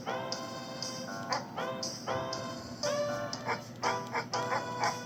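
Several short, bright barks from a dog in a Playdate video game, repeated in quick bursts over a steady synthetic background hum, clear and close with no talking.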